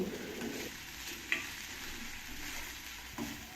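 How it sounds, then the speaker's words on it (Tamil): Ginger garlic paste sizzles gently in oil over a low flame while a spoon stirs it, a soft continuous frying hiss broken by a few clinks of the utensil. "இப்படி ஆட் பண்ணி நல்லா எண்ணெயில் நல்லா வதங்க விடணும்."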